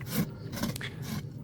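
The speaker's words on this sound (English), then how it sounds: "Now we rasp to where we gathered that hoof wall." A farrier's rasp scraping across a large draft horse's hoof wall, giving repeated close, gritty rasping strokes in a quick steady rhythm.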